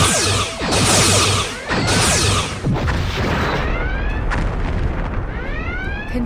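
Sci-fi starship battle effects as enemy ships fire weapons: loud booming blasts in quick succession followed by sweeping, laser-like zaps and rumbling impacts, with no voices.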